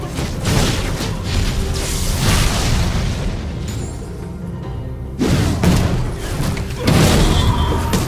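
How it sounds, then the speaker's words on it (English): A turret is destroyed in the League of Legends video game, giving loud, dense booming explosion noise that rumbles on for several seconds with brief dips and renewed bursts, and no voices. "Blue team's turret has been destroyed."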